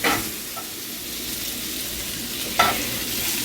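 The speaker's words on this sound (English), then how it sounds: "The onions are already starting to brown a little bit." Onions and red peppers fry in a pan with a constant close hiss and sizzle. A couple of brief stirring scrapes are heard, and there is no speech.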